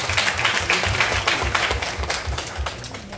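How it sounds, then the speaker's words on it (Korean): A youth congregation applauds at the end of a Sunday church service closing a summer retreat, loud sustained clapping from many hands that fades slightly toward the end. "하나님 앞에 영광의 박수 올려드리겠습니다."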